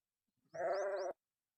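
A single sheep bleats once, a short wavering cry lasting about half a second, while being held and given medicine; quiet surroundings before and after.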